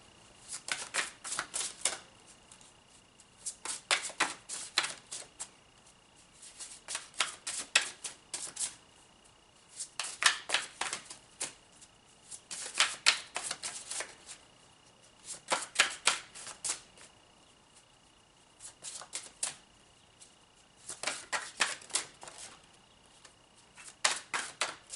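Large tarot cards being shuffled by hand in repeated bursts of crisp riffling, about nine rounds separated by short pauses, close and clear with no talking.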